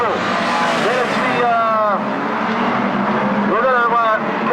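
Street stock race cars in a standards final at Rushworth roar onto the front straight, engine notes rising and sweeping past loudly and close, with a commentator talking over them throughout.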